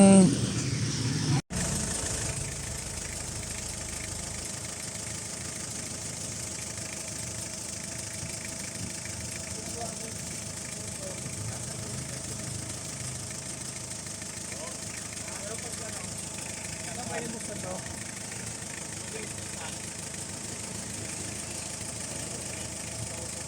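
A freshly overhauled car engine idles steadily for over twenty seconds, a constant mechanical rumble with a faint rattle and no speech over it.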